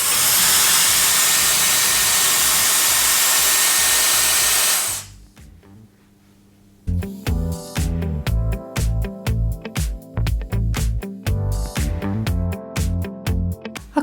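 A Dreame Dazzle hair styler blows a loud, steady rush of air for about five seconds, then cuts off, and a quieter stretch follows before rhythmic music begins.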